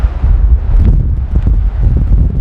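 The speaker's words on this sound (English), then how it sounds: "It is windy." Wind buffets the microphone in a low, heavy rumble that surges unevenly throughout, beside London Bridge in the United States.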